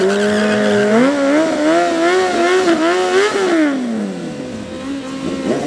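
A racing motorcycle at Midvaal Raceway drag strip screams past close and loud, its engine climbing in pitch through the gears before the tone drops away as it recedes.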